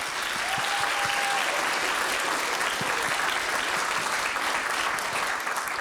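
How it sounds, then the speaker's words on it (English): Sustained, even applause from a conference audience at a public child protection event in Wales fills the room, close and continuous from start to finish. "I hope you will all join me in giving them a very well-deserved round of applause"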